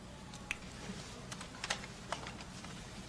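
Quiet, irregular clicks of keys being tapped on a computer keyboard, a few sharper keystrokes standing out against a faint room hum.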